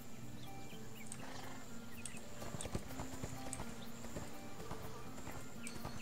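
Horse hooves clip-clop steadily in the video game ArcheAge, a continuous trotting patter set against a dense bed of game ambience and music, with no one talking over it.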